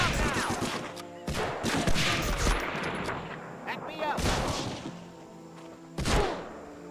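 Gunfire in the World War II shooter Medal of Honor Frontline: several sharp shots and short bursts arriving in clusters with gaps between, loud and close, with a player's voice talking faintly at times.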